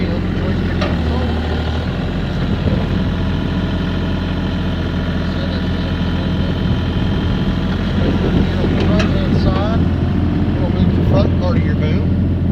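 A mini excavator's diesel engine idles loudly and steadily close by, a constant low rumble throughout, with a voice speaking over it at times.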